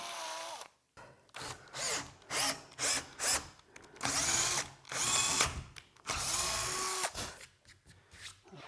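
A power drill driving a tap to thread drilled holes turns in short, repeated bursts with brief stops in between, its motor pitch rising and falling; close and fairly loud.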